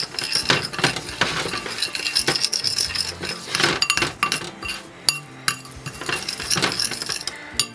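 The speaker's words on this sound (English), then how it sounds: "give it a good stir to combine" Chicken stirred with seasoning and oil in a bowl, repeated clinks and scrapes of a utensil against the bowl in an uneven rhythm, close and clear, with no talking.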